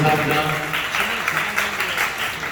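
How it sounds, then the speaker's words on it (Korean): Audience applause at a political youth committee launch event in Korea, sustained clapping from a crowd with voices and sounds of the event mixed in beneath it. "박수 부탁드립니다."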